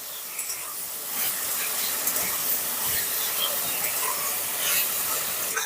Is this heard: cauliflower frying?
yes